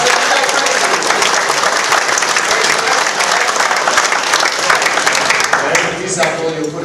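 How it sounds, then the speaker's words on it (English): A conference audience bursts into loud, sustained applause, a dense wash of clapping that stays strong throughout and thins slightly near the end. "a cue for you to give a huge round of fake but joyous applause"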